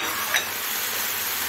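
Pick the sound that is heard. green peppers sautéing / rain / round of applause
green peppers sautéing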